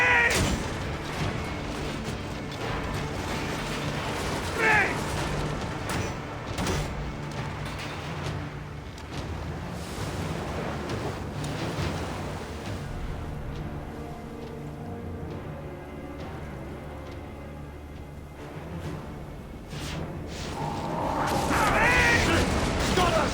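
Artillery fire against a ship during a naval battle in Assassin's Creed Origins: dense, continuous rumbling booms, creaking timbers and battle clatter throughout, swelling louder near the end, with shouted voices mixed in.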